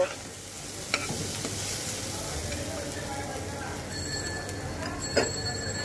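Lentils fry in a pan and are stirred continuously, producing an even, close sizzle with soft scraping, a few faint clinks and occasional high pings in the background.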